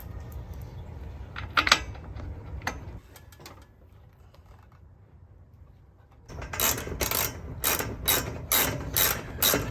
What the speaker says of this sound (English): Last couple bolts and it'll be tightened up.